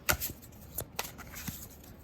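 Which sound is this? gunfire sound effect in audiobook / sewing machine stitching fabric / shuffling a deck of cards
shuffling a deck of cards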